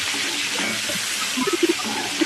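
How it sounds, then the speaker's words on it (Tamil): Eggplant coated in masala sautés in oil in a pan for kootu, giving a steady bright hiss with a few soft pops and stirring taps near the end. "அந்த மசாலாவோட அப்படியே போட்டு ஒரு ஃபைவ் மினிட்ஸ் வந்து எண்ணெயிலே நல்லா வதக்க விடுங்க"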